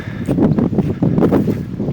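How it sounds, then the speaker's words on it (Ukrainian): Strong wind gusting continuously against the microphone at a carp fishing spot, a loud low rumbling roar with no letup. "Дуже дує, так без перестанку прямо."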